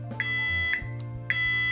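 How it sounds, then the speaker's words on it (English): Multimeter set to resistance mode giving short, bright electronic beeps as its probes touch, three quick chirps spaced evenly over a steady low background hum, close and clear. "I get that nice solid beep"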